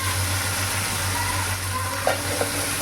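Small tomatoes sautéing in a pan for a fish curry give off a steady, dense sizzle, with a low constant hum underneath and a couple of faint stirring knocks near the end.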